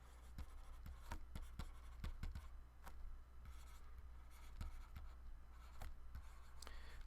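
Pen or marker writing equations by hand on a surface, producing quick scratchy strokes and taps in an irregular rhythm, close and faint over low hum, without speech.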